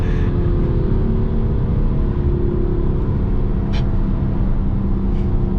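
A tuned BMW M4 on coilovers accelerates hard, its engine a loud, steady, deep droning roar heard from inside the car throughout, without speech.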